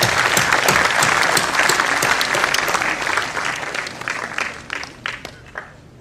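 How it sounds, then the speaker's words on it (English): Audience applause for teachers at a public awareness program on narcotic drugs, loud sustained clapping from a large crowd that gradually thins and fades toward the end. "let us give a big round of applause to all the teachers who are present here"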